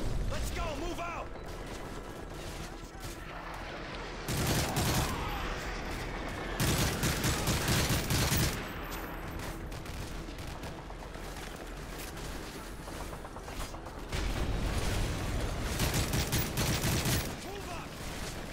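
Gunfire in the video game Modern Warfare 3, bursts of rapid automatic fire in several loud stretches separated by quieter gaps with game sounds and a voice talking.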